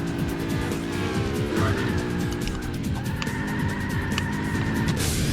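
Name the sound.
car drifting with tire squeal in Burnout 2 video game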